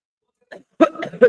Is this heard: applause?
no